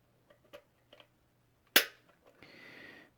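A single sharp metallic click rings out from a dry-fire trigger pull on a Springfield Hellcat 9mm pistol, preceded by faint handling taps and followed by a soft mechanical hiss, close and quiet in a still room.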